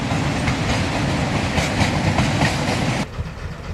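A steam train in China rolls past at close range in snowy weather, its steady rattling wheel clatter and rumble filling the scene before dropping away abruptly near the end.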